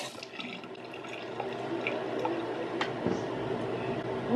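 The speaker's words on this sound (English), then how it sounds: "Brushing my teeth." Running tap water while someone brushes their teeth at a sink, a soft continuous splashing flow with small scattered clicks and knocks, fairly quiet and close.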